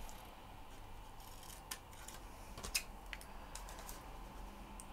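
Scissors snip into a small paper envelope, a few faint, crisp clicks and cuts spread across a quiet room, with no talking.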